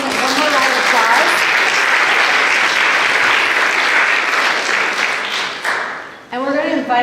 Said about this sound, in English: We're actually going to do one more round of applause.